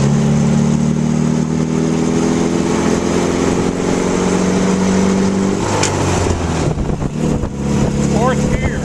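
A 1932 MG J2 engine drones loud and close with steady harmonics, its pitch climbing and dropping as it shifts up through the gears, while people talk over it.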